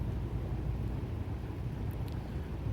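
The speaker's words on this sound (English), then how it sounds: "It's an aluminium workboat basically, but we put some decking in it, and it was Stuart Turner" An aluminium workboat with a Stuart Turner inboard engine runs on the River Thames, giving a steady low rumble with wind-like noise throughout and no speech.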